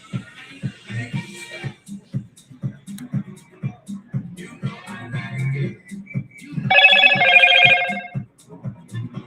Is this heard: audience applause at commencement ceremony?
no